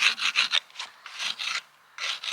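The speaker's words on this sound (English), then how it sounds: "I think sometimes I use a narrow wallpaper scraper" Narrow wallpaper scraper rasping against the inside of a narrowboat stove, a series of short close scratchy strokes in quick bursts with brief pauses between them.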